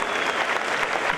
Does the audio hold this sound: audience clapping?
yes